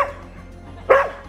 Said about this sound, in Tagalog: Nag-uusap sila, pati siya kumakahol.